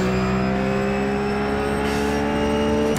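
Ruf GT3 race car engine in the iRacing simulator, a loud, steady high-pitched drone held at sustained revs throughout, with no talk.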